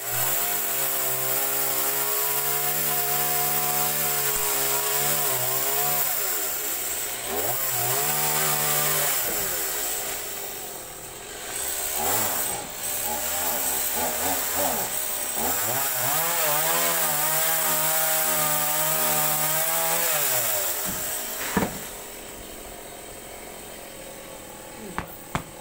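A chainsaw cuts tree wood at a house, its loud engine droning steadily and rising and falling in pitch as the blade bites in, running for most of the stretch before dropping to idle near the end, with a few knocks.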